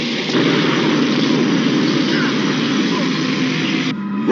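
Thrusters firing up as a sustained, loud, dense roar with a steady engine-like rumble, holding constant before cutting away abruptly near the end, in the style of a vintage sci-fi movie trailer effect.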